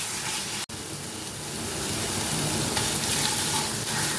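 Onion and poppy seed paste stir-fried in oil in a pan, a steady close crackling sizzle that grows slightly louder, one short clatter near the start, no speech.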